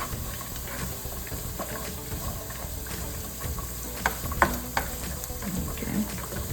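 Carrots sautéing in a pan for red lentil dahl give a steady, low sizzle with stirring scrapes and a few sharper knocks near the end, no talking.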